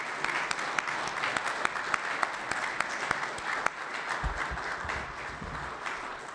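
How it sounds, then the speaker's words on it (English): Applause from the audience at a Rotary Club police recognition day meeting, steady and fairly distant, with a few sharper individual claps standing out and no one speaking over it. "Let's give them a round of applause"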